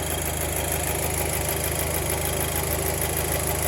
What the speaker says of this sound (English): the engine is running